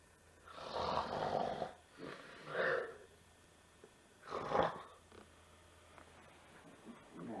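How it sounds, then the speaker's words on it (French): A man snores heavily indoors, four rasping, rattling breaths spaced a few seconds apart, recorded faintly with quiet pauses between them. "Il ronfle aussi très fort, à en faire trembler les murs"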